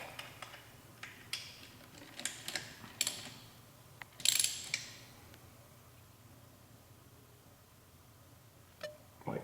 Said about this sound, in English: I'll hit the torque on each one a couple of times to make sure that it's good to go